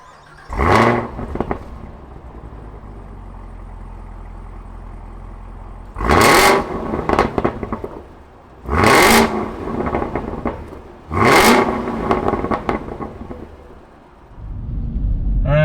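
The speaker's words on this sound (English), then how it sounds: "we're gonna fire up this LT4 supercharged V8" A 2021 Camaro ZL1 1LE's LT4 supercharged V8 fires up with a loud cranking start, settles into a low idle, then delivers three sharp, roaring revs with supercharger whine before a final rising blip, close and alone.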